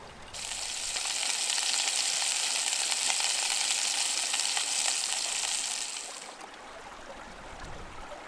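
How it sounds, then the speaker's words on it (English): Two small fish fillets sizzle in a pan over an alcohol stove in a BushBuddy at an Algonquin canoe campsite, a steady loud frying hiss that fades near the end. "Gonna fire up the alcohol stove in the BushBuddy, and then we'll get these fried up"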